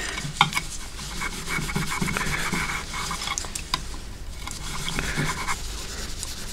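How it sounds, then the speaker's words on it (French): A brass wire brush scrubs rust off an old, badly corroded steel shovel being made into a knife, giving close, rapid rasping strokes in an uneven back-and-forth rhythm with scratchy metallic texture. "le laiton de la brosse est en train de s'incorporer à l'acier"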